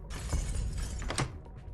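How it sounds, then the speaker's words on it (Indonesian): Glass shattering in a Korean thriller film scene, a dense crashing, crackling burst of breaking pane with sharp bright fragments near the end, loud and close amid dramatic background sound. "ia mendengarkan sebuah kaca yang pecah"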